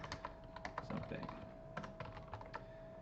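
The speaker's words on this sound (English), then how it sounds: "I'm going to type this question here in Slack" Fingers tapping out a question on a computer keyboard, quick irregular clicks in short bursts with pauses between them, fairly close and quiet over a faint background tone.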